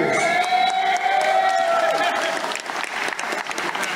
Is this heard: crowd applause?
yes